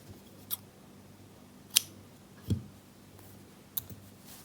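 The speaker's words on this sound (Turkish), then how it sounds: "Yaptım bir zincir çekip artık ipi kesiyorum." Scissors cut the yarn after a crochet chain at the end of a row on a shawl, giving four crisp, separate snips spread out over a quiet background.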